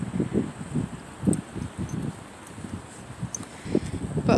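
Wind blowing across an outdoor park at night, heard as uneven gusts that buffet the microphone in soft, rumbling bursts rising and falling throughout.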